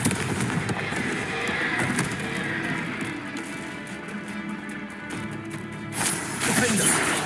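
A Confringo blasting spell in Hogwarts Legacy goes off amid a busy, noisy battle, with a loud crackling burst of explosions and impacts over game effects and shouted incantations.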